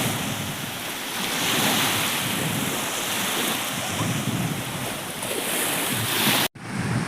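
Sea waves wash steadily onto a shallow beach where fishermen once came ashore, a continuous broad surf roar mixed with heavy wind buffeting on the microphone, with no talk and a brief dropout near the end.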